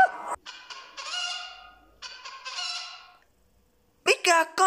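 In the horror game Five Nights of Impostors, a loud honking fowl call repeats in several drawn-out squawking bursts separated by brief silences, alone and close.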